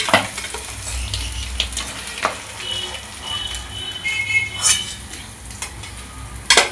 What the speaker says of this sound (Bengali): এরকম করে এই মাছগুলোও ভেজে নেব